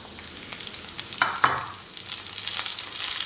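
Potatoes and carrots stir-frying for a chicken stir fry, a steady close sizzle with a few sharper crackles and a scrape of stirring partway through, no voices.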